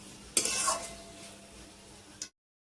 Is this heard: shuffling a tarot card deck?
no